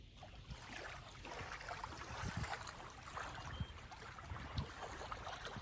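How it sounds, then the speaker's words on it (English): Gentle water lapping along the shore of Alamo Lake, a dammed stretch of the Bill Williams River in Arizona, a steady soft wash with small splashes and gurgles, fairly close and without voices. "I'm gonna let you listen right now and hear the lapping and the sounds."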